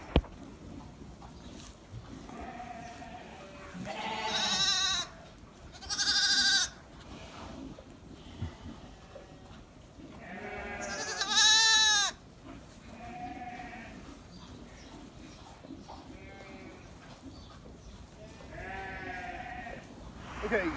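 A Shetland ewe and Texel lambs bleat at a Welsh lambing farm, with several loud, wavering calls coming in separate bursts, some close and some softer, against a low background rumble.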